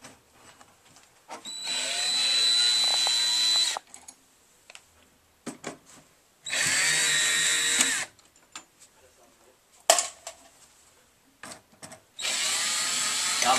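A power drill backs out screws from six metal clamps on top of a footlocker, running in three sustained bursts of roughly two to four seconds each, with quieter handling clatter and a faint voice in the gaps between.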